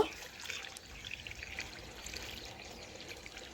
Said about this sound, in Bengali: এই দেখুন এইভাবে আমি 2 থেকে 3 বালতি জল ঢেলে দেব।